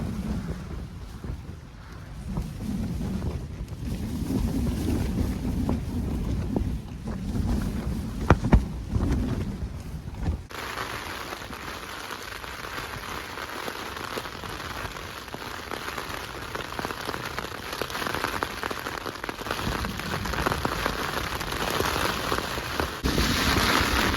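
Storm rain and gusting wind batter a Terra Nova Northern Lite 2 tent, a dense, continuous patter on the fabric with heavy wind rumble and buffeting on the microphone that shifts partway through, with no voices.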